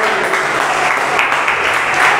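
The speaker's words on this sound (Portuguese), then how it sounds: "Puedes aplaudir al Señor." A church congregation claps loudly and continuously during a worship service, a thick even wash of many hands with no voices breaking through.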